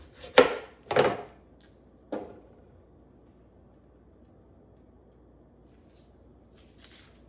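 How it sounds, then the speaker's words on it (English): Knife chopping half a red onion on a cutting board: two sharp chops close together near the start, a third a second later, then quiet with a faint rustle at the end. "I'm gonna dice up just half a red onion."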